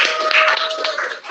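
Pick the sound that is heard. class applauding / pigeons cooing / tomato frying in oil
class applauding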